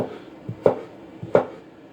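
Potato cut into thin matchstick strips for onion bhajis, a knife striking the board in two crisp chops about two-thirds of a second apart, close by, with quieter taps between.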